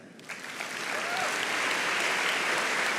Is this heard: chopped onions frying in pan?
no